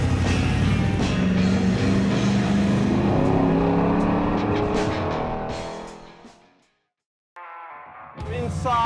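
A 1964 Chevy C10 pickup's V8 with aftermarket headers and a Varex rear muffler rumbles loudly and steadily, then fades away into silence before the engine and exhaust noise briefly returns.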